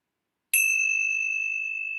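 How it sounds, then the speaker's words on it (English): A meditation bell is struck once and rings out in a clear, sustained tone that decays slowly, after a short silence at the start, with no voices. "I'm going to close our time together with the ringing of the bell"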